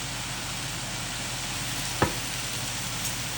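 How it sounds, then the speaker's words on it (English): Flour is stirred into a sizzling mushroom mixture in a pan, a steady close hiss and fry with one sharp utensil tap midway. "Now, we're gonna mix our flour and mixture."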